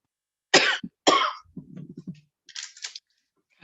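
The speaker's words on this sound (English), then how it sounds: "I'm just going to turn off a minute while I cough" Someone coughs repeatedly during an online accounting seminar, with two loud, close coughs followed by quieter hacking and throat-clearing sounds.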